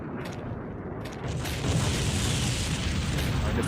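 A tank blows up in the video game M.I.A. Mission in Asia, a deep, rumbling boom that swells after a second and sustains as a loud, roaring blast to the end.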